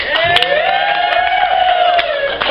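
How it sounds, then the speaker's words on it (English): A comedy club audience cheers and whoops loudly for the single people in the crowd, a dense, sustained roar of voices and shouts with a few sharp claps throughout. "All the single folks, round of applause."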